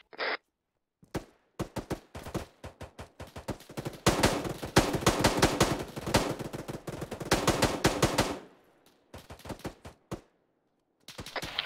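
Gunfire in the video game ArmA 3, sharp close bursts of rapid automatic shots, dense in the middle, with scattered single reports before and after and no talking.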